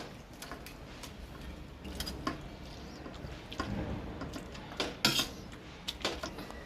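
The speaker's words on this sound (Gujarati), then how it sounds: "હવે આપણે ભાજી વઘારી નાખવી।" Boiled pav bhaji vegetables are tempered in a pan with oil, garlic, onion, chilli and tomato gravy, giving a faint sizzle under scattered clinks and scrapes of a ladle against the metal pan, nearby with no voices.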